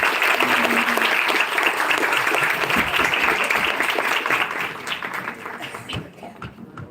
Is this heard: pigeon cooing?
no